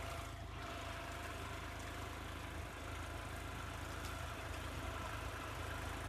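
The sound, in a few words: tractor engine running in a sugarcane field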